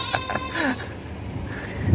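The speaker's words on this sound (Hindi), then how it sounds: "देखिए उधर बगल वाले बकरी भी बोल रही है ना।" A goat bleats from a neighbouring yard in rural Bihar, several short wavering calls in the first second over steady outdoor background noise, fairly close and moderately loud.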